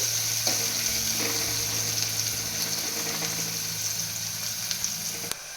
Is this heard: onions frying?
yes